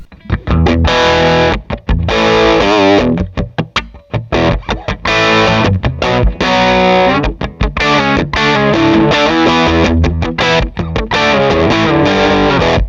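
Electric guitar through a Tim overdrive pedal into a Divided by 13 amp plays chords and riffs with a gritty, slightly broken-up tone, punctuated by brief pauses between phrases.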